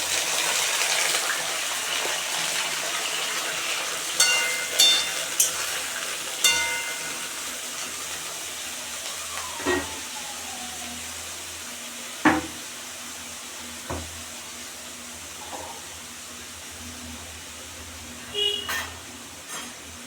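Eggplant pieces go into a pan already cooking prawns, spinach and green chillies, giving a steady close sizzle with scattered clinks and stirring knocks throughout.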